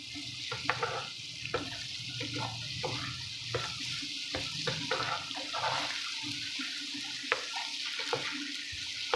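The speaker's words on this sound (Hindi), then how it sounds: "लो टू मीडियम फ्लेम पे इसको हम फ्राई करेंगे तड़के को" Steady crackling sizzle of a tadka, spices frying in hot oil over low to medium flame for chana dal, with occasional sharp clicks and stirring scrapes, close and continuous, no talking.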